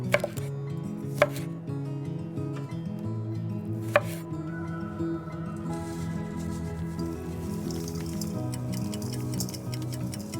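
Knife chopping clementines on a board in a Corsican kitchen, a fast steady run of crisp cuts under soft background music, close and distinct.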